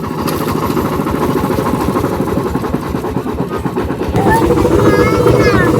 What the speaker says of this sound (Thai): ได้ได้ขี่รถไถแล้ว